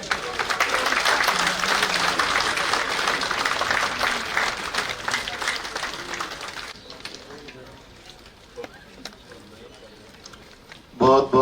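Audience at a book launch ceremony for a volume on Sharad Pawar at Aurangabad Haj House applauding loudly, dense clapping that fades after about seven seconds into quieter room noise with scattered sounds and a brief burst at the end.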